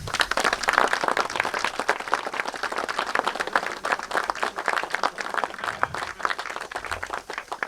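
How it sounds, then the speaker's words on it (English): An audience applauds at the launch of GNR N2 steam locomotive 1744 on the North Norfolk Railway, a crowd's dense, crackling clapping that stays lively and uneven throughout without speech. "applause."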